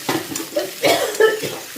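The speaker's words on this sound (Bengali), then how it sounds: "তো মা একটু ব্যস্ত আছে বলে আমি একটু নেড়ে দিচ্ছি, ভালো করে নেড়ে দিচ্ছি" Food frying in a pan being stirred, close scraping and clattering strokes of a spoon against the pan over a soft sizzle, in quick irregular bursts.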